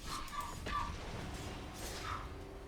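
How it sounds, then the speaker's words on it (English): A new pet dog named Liliana yips and whimpers in the background, a few brief high calls over low steady room noise. "Sorry if you hear a dog barking in the background."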